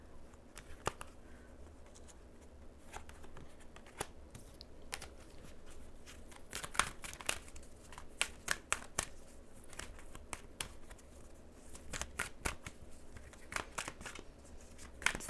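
Tarot cards being shuffled and handled by hand, giving soft papery riffles and snapping flicks scattered irregularly over a quiet room with a low steady hum in the background.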